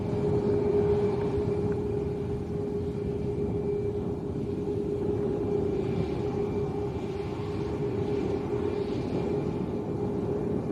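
A Ryanair airliner departing Lanzarote Arrecife airport produces a steady, fairly loud jet roar with a constant tonal whine over a broad rumble, sustained throughout with no talking.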